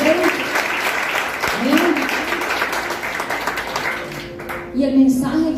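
A church congregation claps steadily at a Sunday service, the applause moderate and continuous beneath a voice speaking and singing, with a brief spoken amen.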